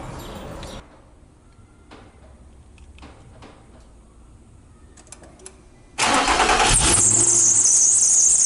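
An Infiniti G35 Coupe, fresh from a power steering pump change, is heard after a quiet stretch with faint clicks: the engine cranks and catches suddenly and loudly, with a sharp high squeal riding over the running engine.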